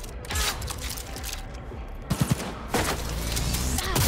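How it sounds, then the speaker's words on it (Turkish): Charged rifle shots in the game Cyberpunk 2077, a few sharp bursts of fire around the middle of the span amid busy game noise and clatter, loud and close. "bu ilginç bir tüfek ha"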